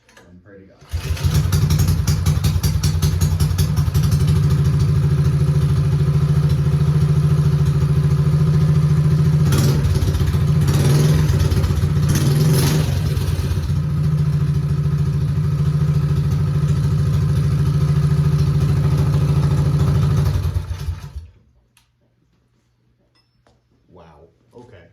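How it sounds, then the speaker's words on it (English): A Coleman BT200X mini bike with a stage one kit starts with a kill switch and choke on, then its small engine idles and revs in a loud, steady throb for about twenty seconds before shutting off. "Give her a couple throttles and pray to God."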